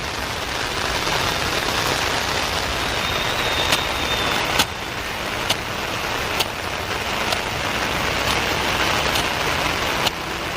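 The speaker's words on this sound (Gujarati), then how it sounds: "વરસાદે રહેતો નથી." Steady rain falls throughout, a dense continuous hiss with occasional sharper drips and taps, close and fairly loud, with a faint vehicle rumble underneath and no talk.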